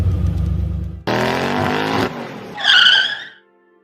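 A cartoon car pulls away with a loud engine rev and a sharp tire skid squeal near the end, alone with no talk.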